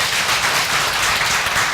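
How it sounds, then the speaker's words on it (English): A school audience applauds the headmaster of a Zambian secondary school as he rises: dense, steady clapping from many hands throughout, loud and continuous with no talk over it. "Let's give him a big applause."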